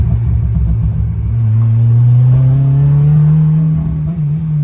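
A K-series car engine, check engine light off and not engaging VTEC, revs steadily upward in one long continuous climb, loud and close, then stops rising and falters near the top, with no voices.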